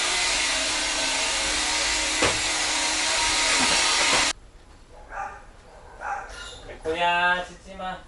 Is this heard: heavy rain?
no